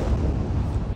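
An intercepted missile explodes into a huge fireball in Israel, a loud, dense roaring blast that fills the moment and then cuts off abruptly.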